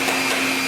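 A grooming hair dryer for puppies roars like a leaf blower, a loud steady whooshing blast of air with a constant whine, close and unbroken throughout.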